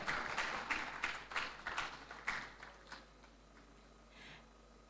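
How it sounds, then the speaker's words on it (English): A brief burst of audience clapping at an international academic conference, several distinct claps from a small audience that thin out and fade into near silence, followed by a faint click. "Please give a warm applause to Professor Dr."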